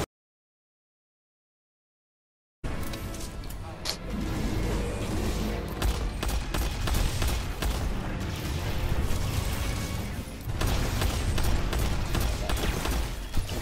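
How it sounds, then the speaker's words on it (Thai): Gunfire in Destiny 2 during a PS4 raid boss fight against Insurrection Prime, a dense, continuous barrage of shots and booms after about two and a half seconds of silence, loud and sustained to the end. "คุณนี่ยิงปืนให้หน่อย"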